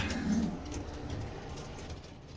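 A breeder racing pigeon coos softly in a loft, a low murmuring call near the start over a steady background hum, with no talk.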